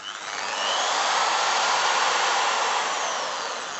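A budget impact drill runs at full throttle, a high, steady motor whine and whir that ramps up quickly, holds for a few seconds and tapers slightly, close and alone.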